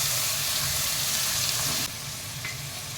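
Tomatoes hit a hot pan with ginger and garlic, giving a steady close hiss of sizzling that drops to a softer, quieter fry partway through as the pan settles.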